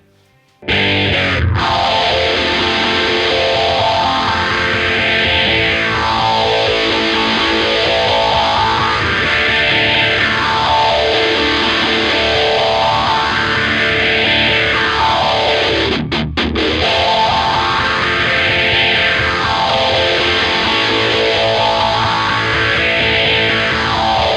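Continuous overdriven electric guitar with heavy distortion and a sweeping, swirling effect, loud and sustained throughout with no voices.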